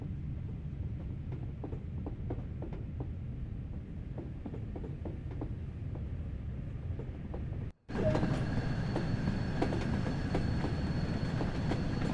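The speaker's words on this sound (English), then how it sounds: "This train is powered by an LMS Jubilee class steam locomotive." An LMS Jubilee class steam locomotive in Train Sim World 2 rolls along with steady rhythmic clacking and mechanical rumble, then the sound cuts abruptly to a brighter, hissing run of the same motion.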